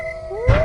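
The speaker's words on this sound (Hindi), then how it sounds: "कभी कभी सियार के हुआ आवाज भी आती थी" A jackal howls in a village near the forest at night, a brief rising wail that swells louder toward its end, heard alone without any talk.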